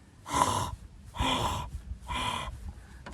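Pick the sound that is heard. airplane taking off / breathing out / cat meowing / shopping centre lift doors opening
breathing out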